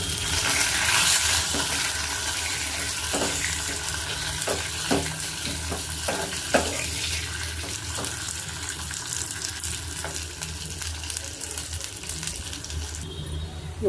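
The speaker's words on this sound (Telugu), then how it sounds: "ఇప్పుడైతే ఉల్లిపాయ ముక్కలు కూడా వేసుకుందాం. ఫస్ట్ ఉల్లిపాయ ముక్కలు వేగాలి." Onion pieces frying in oil with cumin, mustard and fenugreek seeds, a steady close sizzle with intermittent ladle stirs and clicks over about fourteen seconds.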